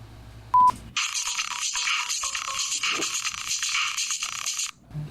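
A phone ringtone plays loudly and steadily for about four seconds, with a bright warbling melody that cuts off abruptly. A short beep comes just before it.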